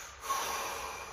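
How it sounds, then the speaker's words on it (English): A deep inhale followed by a big exhale during a wake-up yoga session, one slow breath cycle of steady breathy air lasting about a second, close and alone. "Deep breath in, big exhale."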